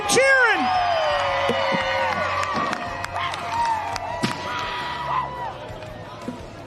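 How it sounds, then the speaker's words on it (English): A crowd cheers at the 2026 STIHL Timbersports North American Trophy, with whoops, shouts and whistles swelling and rising over several seconds while an announcer's amplified voice carries over the noise. "Keep cheering. Keep cheering."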